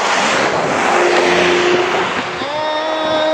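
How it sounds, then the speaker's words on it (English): A car roars past at speed, its engine noise loud and broad, with a rising whine as it approaches and recedes. "I hear the sound of a speeding car"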